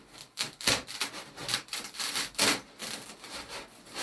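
Utility knife scored firmly along a marked line on a plasterboard panel during workshop panelling, a series of close, dry rasping strokes repeating in an uneven rhythm with no voices.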